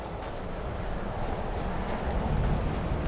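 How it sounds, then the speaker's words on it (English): Steady roaring wind on a snowy mountainside in Skyrim, a continuous broadband rush with low rumble that swells slightly toward the end, with no talk over it. "Very windy, a lot of snow flying in your face kind of a situation."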